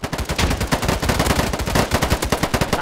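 Rapid automatic gunfire from a free-to-play FPS game rattles in dense, evenly spaced bursts, loud and close, running without a break and with no talk.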